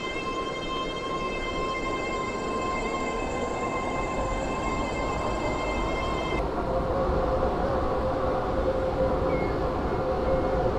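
Passenger train running in a railway video game, a three-coach service, gives a steady rumbling drone with a sustained tonal whine that cuts out partway, followed by a fainter lingering tone.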